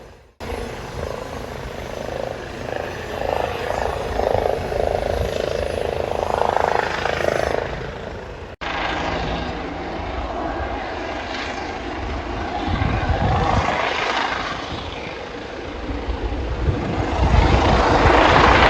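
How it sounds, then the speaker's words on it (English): An air ambulance helicopter hovers near a marina by a widebeam canal boat, a steady, loud rotor and engine drone that rises and falls in strength. It holds for most of the stretch, with an abrupt break partway and a voice occasionally underneath. "Or it might be air ambulance waiting to land."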